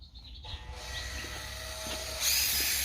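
A power drill whines steadily in a car garage during work on an E36 BMW with a turbo, near and fairly loud, its pitch rising toward the end.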